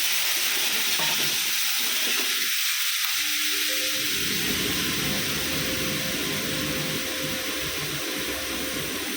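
Papaya and paneer curry sizzles loudly in a pan as water hits the hot oil, a dense, steady hiss that holds close and strong throughout, with a brief dip in the low rumble early on.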